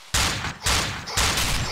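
Gunfire in the co-op horror video game Cry of Fear: three loud, heavy bursts of shots crack out at a steady pace, close and dominant.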